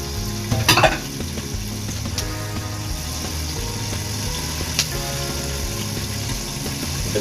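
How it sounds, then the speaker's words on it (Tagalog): Hot cooking oil sizzles and splatters steadily while fish roe and pork chops fry in a pan, with a few sharp pops standing out near the start and middle against the continuous loud crackle. "matalsikan yung mantika."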